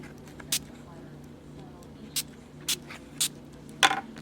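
Several short, sharp hisses of a spray bottle wetting a screen protector for an iPod nano come at uneven intervals over a quiet background hum.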